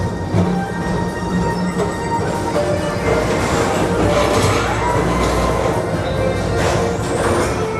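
The Magic Kingdom's Tomorrowland Transit Authority PeopleMover rolls along with a continuous rumble and faint wheel squeals, a steady mechanical hum and rattle throughout.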